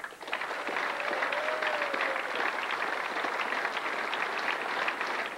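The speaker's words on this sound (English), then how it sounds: "a generous round of applause too there for Australia" An audience at a pool championship teams final claps steadily for the runners-up, a continuous mid-level round of applause with no talk, holding even from start to finish.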